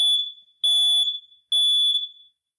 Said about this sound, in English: I think I just had a fire alarm go off in my house while I'm talking.